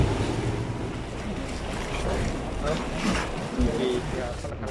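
Steady rumble of a motorboat crossing open water to Basco, with wind buffeting and sloshing waves throughout, and faint voices underneath.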